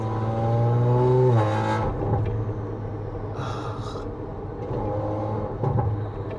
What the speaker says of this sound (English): huge props to the people who made this downpipe, because wow, wow man, they are mad scientists, because it has this tone.